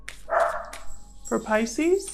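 Dogs bark several times nearby, sharp and loud, in short bursts mixed with a person speaking.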